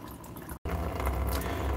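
Water drains steadily out of the coolant system of a 1989 Chevrolet K1500 truck during a flush, a continuous close splashing trickle with one brief dropout.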